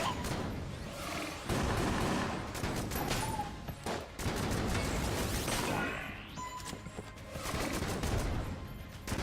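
Strafe gun firing in Enter the Gungeon: continuous rapid bursts of game gunfire and impacts, dense and loud throughout with brief dips, mixed with other game effects.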